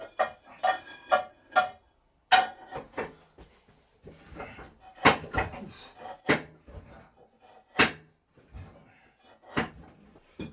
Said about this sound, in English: Inch by inch we moved the lathe across the workshop floor